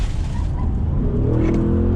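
A 2021 Audi SQ7 SUV with Quattro all-wheel drive accelerates out of a turn, its engine a loud, steady low rumble that rises in pitch as it pulls through the gear, with no talk over it.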